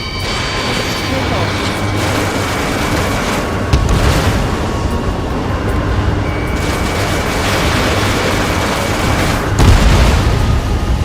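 In Ace Combat 7, a missile strikes and explodes with a heavy boom, followed by a second blast later on. Both sit over steady jet engine roar and radio chatter at full, dense loudness.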